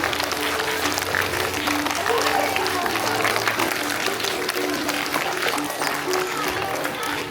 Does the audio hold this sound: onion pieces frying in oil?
no